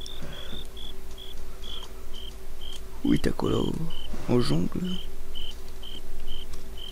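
Crickets in Minecraft chirping in a regular, evenly spaced pulse throughout, accompanied by a steady background hum, while someone talks briefly in the middle.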